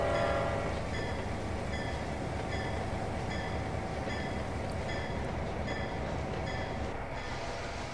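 A freight train rolls steadily in the Trainz rail simulator while hauling cars toward a grain mill, with a continuous rumble and faint rhythmic clicking of wheels over rail joints, heard alone at a constant distance.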